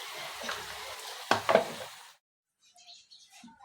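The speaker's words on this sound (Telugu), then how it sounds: "వెల్లుల్లి వేసుకోవాలి కరివేపాకు ఎండుమిర్చి వేసుకోవాలి" Garlic, curry leaves and dried red chilies fry in hot oil, a close burst of sizzling hiss with two sharp sputters, then the sizzle cuts off into near silence with faint scattered crackles.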